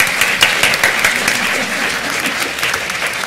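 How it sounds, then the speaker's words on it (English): Steady audience applause for a conference panel on supportive housing in New York City, a full round of clapping at even loudness throughout, fairly close and without speech. "Can we please give a round of applause for our amazing panel?"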